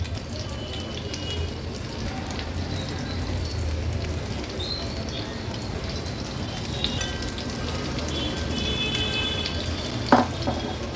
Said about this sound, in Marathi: एक एक करून सर्व ही कांदा भजी पण मी तेलावर सोडते